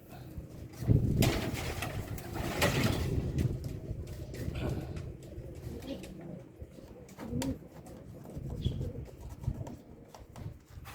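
Soft, low pigeon cooing repeats through a noisy background, with a few louder rustles and thumps near the start.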